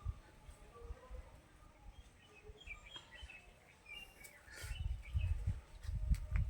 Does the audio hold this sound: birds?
yes